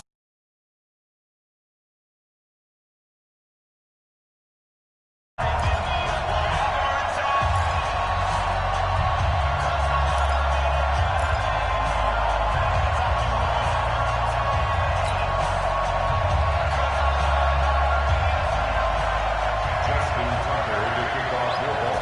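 A stadium crowd roars steadily at M&T Bank Stadium in Baltimore in an EA Sports NFL video game, loud and continuous once it begins after a silent opening, with a commentator talking over it.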